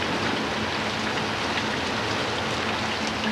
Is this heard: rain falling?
yes